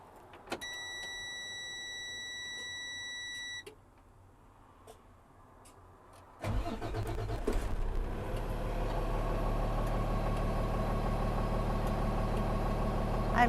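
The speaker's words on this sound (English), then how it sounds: "Now we're going to turn on the engine and wait for the needle to" A truck's engine starts up and settles into a steady, loud idle during a Class A air brake test, with a rumbling low drone after a quiet stretch of ticking.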